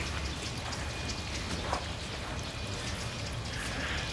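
Rain falls on the grounds of Sumiyoshi shrine as a soft, steady hiss with scattered close drips and patters, fairly quiet and continuous, with no talking.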